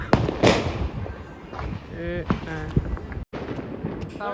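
Firecrackers burst repeatedly around a village during Diwali and Govardhan Puja, sharp bangs and crackles at varying distances mixed with voices chatting nearby.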